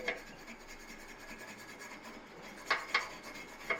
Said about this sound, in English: Got a little brush. And just scrape him off and you can get a good look.